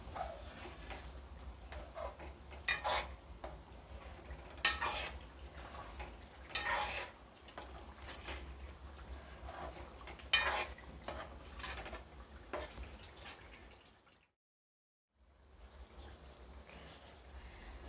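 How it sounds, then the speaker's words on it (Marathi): Cut boiled eggs are turned through thick biryani masala gravy in a pan for egg dum biryani, giving intermittent spoon clinks and scrapes with a soft background hiss and a brief silent break near the end. "आता ही सर्व अंडी मी परतून घेते"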